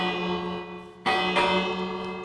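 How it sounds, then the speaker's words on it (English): Bells in Minecraft sound a ringing metallic tone that decays and is struck again sharply midway, resonating clearly with no talk. "Got these bells here."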